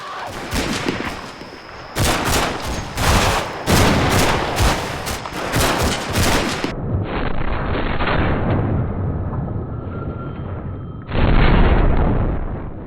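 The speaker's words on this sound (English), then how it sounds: "my men still have to worry about gunfire from Italians in the houses" Bursts of rapid gunfire and sharp blasts from the WWII game Combat Mission: Fortress Italy come in waves, loud and close, with brief pauses between volleys.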